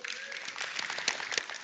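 An audience at a Microsoft Build after-party event breaks into quick, scattered applause, with voices talking over the clapping.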